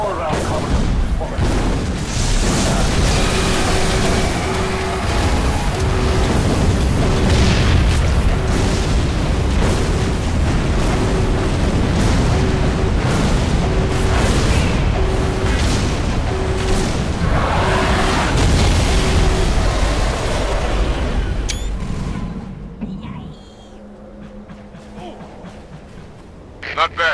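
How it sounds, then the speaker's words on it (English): A large explosion in the video game Halo 3 on PC, a long, loud, rumbling roar with dense crackling debris lasting about twenty seconds before dropping sharply to a quieter low hum. "I saw that explosion from orbit."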